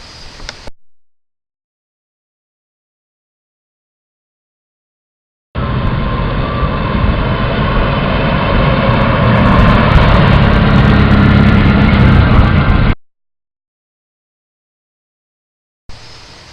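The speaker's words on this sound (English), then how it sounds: "we'll be testing the stopping distance with 2 people in the vehicle." A car with two people aboard during a stopping-distance test: a steady engine and road rumble runs for about seven seconds, framed by silence, and ends abruptly.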